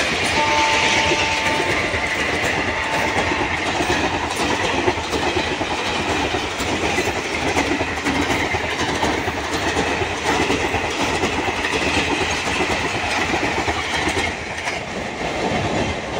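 Kanchenjunga Express passing at Masagram, a loud close roar of rail cars with steady rhythmic clickety-clack of wheels over the track, sustained throughout.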